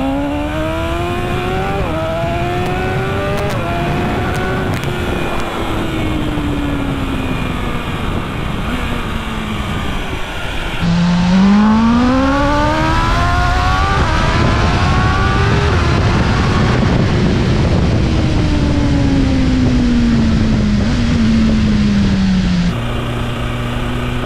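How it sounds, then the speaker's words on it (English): A BMW S1000RR sport bike revs hard through the gears while accelerating for a wheelie, its engine pitch sweeping up and dropping with each shift, loud and close, with no talking. "Cover the rear brake, get the bike up to about 50 kilometers an hour."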